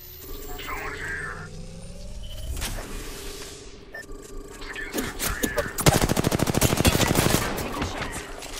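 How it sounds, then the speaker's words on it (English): Automatic gunfire and single shots crack out in a shooter video game, building from scattered blasts to a dense, rapid burst near the end, with game sound effects and a whooshing sweep mixed in. "Taking shots."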